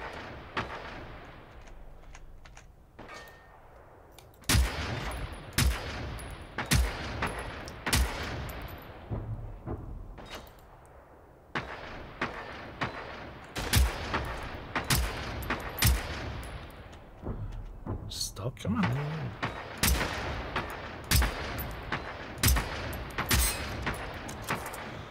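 Gunfire in the video game Generation Zero: repeated single sharp gunshots spaced a second or so apart, loud and close, with short pauses between volleys and faint background rumble.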